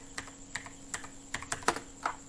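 A file name typed on a computer keyboard: around a dozen crisp, close keystrokes in an uneven, quick rhythm, with quiet gaps between them and nothing else heard.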